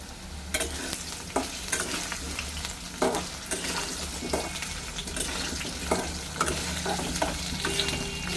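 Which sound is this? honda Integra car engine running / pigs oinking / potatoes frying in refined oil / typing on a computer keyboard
potatoes frying in refined oil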